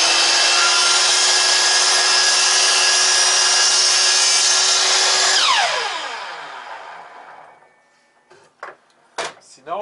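A miter saw cuts through wood, its loud, close whine holding steady through the cut and then winding down as the blade slows to a stop, followed by a few clunks as it is raised.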